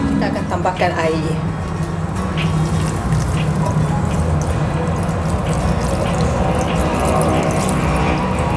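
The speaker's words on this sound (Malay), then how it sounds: "Okay, air saya pun dah isikan, jangan terlalu penuh ya." Tap water runs steadily into a pot being filled to boil seven betel leaves, a continuous close splashing flow lasting throughout with a few drips at the start.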